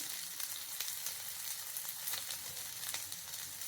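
Chicken roasting in a pan for chicken kalmas gives off a steady, close sizzle and fry crackle that continues without a break, with no voices over it.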